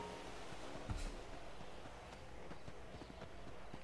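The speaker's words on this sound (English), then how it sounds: "I keep hearing the cow's footsteps and thinking there's a person around me." Hooves of a cow clopping on the ground in an online roleplay game, a few soft irregular steps over steady background ambience.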